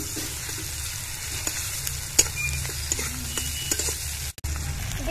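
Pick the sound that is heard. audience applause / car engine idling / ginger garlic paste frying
ginger garlic paste frying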